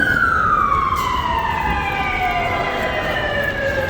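A wailing emergency vehicle siren on a New York City street sweeps steadily downward in pitch, loud and close over a constant rumble of traffic, with no talking.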